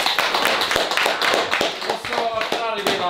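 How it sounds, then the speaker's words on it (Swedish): A small group of people applauds with sharp, uneven claps close by, while voices talk over them throughout. "Applåd. En applåd."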